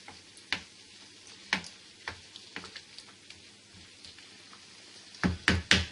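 Bolognese sauce for lasagne sizzles and simmers in a pan, a steady low crackle broken by a few sharp spoon taps and clicks, louder near the end.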